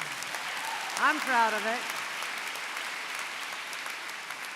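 Audience applause at a law school commencement ceremony, a broad steady wash of clapping that runs the whole time, with a short spoken phrase rising above it near the start.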